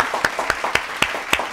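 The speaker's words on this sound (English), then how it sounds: "Let's give a big round of applause for coming on." Studio applause on a talk show: sparse, evenly spaced claps, about four per second, from what sound like only a few pairs of hands, with no voices.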